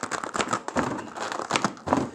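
Cornstarch crunching and crinkling as it is pressed and packed tightly into a can, heard as a close, fairly loud run of repeated squeaky crunches in short bursts with no talk.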